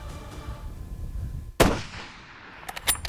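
A single sharp rifle shot fired at an elk during a New Mexico hunt cracks loudly and close, then echoes away, with a few quieter knocks and rustles just after.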